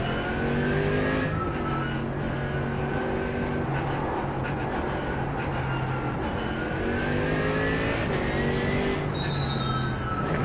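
A GT3 race car engine in the sim racing game Le Mans Ultimate, droning loudly and steadily with rising and falling revs through repeated gear shifts, heard alone without talk.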